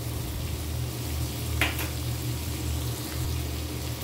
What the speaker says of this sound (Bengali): মশলাটা এখন আমি ভালো করে কষিয়ে নিব।